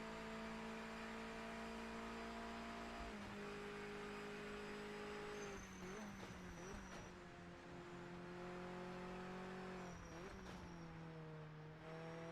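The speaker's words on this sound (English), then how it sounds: "Shadow, can you hear the engine now?" A race car engine in the video game Project Motor Racing drones steadily with clear harmonic tones, shifting pitch as it revs and changes gear, a continuous, even whine at moderate level.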